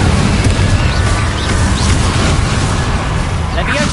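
Incendio fire spell blasts in Hogwarts Legacy, heard as a dense, continuous roar of fiery bursts and booms with a few sharp pops on top.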